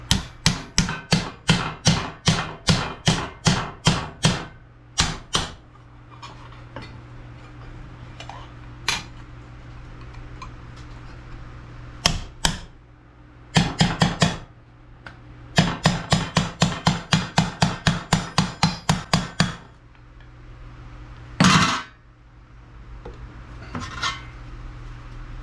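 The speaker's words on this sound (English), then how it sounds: "Let's bend it up and give it a test fit." Repeated sharp metallic hammer blows on rusty Mustang A-pillar sheet metal as it is bent to shape, arriving in fast rhythmic bursts with pauses between, close and loud with no talking.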